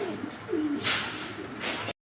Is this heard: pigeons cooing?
yes